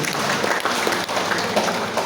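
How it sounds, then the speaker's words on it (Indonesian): Audience applause at an Indonesian educational outreach session for teachers, a dense, steady clapping that fills the whole stretch without pause. "Tepuk tangan untuk Bapak Ibu semuanya."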